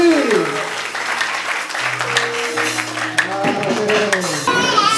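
A church congregation claps and cheers, steady applause under loud talk and singing-like voices across the whole stretch.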